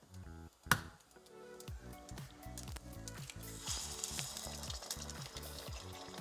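Egg and bacon frying together in a pan, a steady close sizzle with soft crackles running throughout, a brief sharp clatter early on, then a busier, louder spitting texture in the second half.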